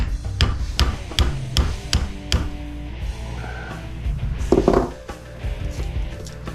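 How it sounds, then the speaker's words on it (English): Hammer blows on scrap electric motor parts, checking whether components are plastic: a series of sharp metallic knocks at an uneven pace, fairly close, over a low background rumble, with a clattering scrape near the end. "Let's hit one once with a hammer."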